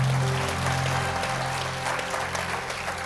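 A church congregation applauds in unison, producing dense, continuous clapping that fills the room at a fairly loud, even level with a low hum underneath.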